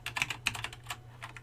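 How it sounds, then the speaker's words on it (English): A brief burst of rapid typing on a computer keyboard, several close, crisp keystrokes entering a search into Google, heard alone. "Because if I type"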